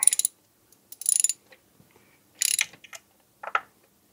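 Ratchet wrench clicking in short bursts while loosening a spark plug on a Jeep Patriot, several quick rattling strokes separated by pauses and small metallic taps, close and otherwise quiet.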